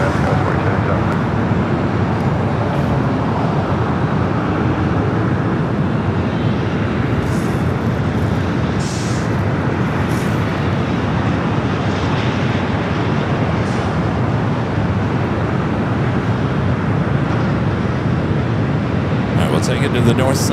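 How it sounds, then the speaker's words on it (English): A Boeing 787 Dreamliner touches down at LAX with a sustained, loud broadband roar of engines and rushing air. The noise holds steady for the whole stretch, and a voice talks over it. "heavy Dreamliner, just touching down"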